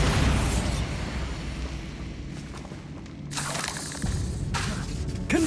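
Bombarda spell blasts in Hogwarts Legacy: a loud booming explosion at the start with crackling debris, then further bursts around the third and fourth seconds, each rumbling out under continuous game sound.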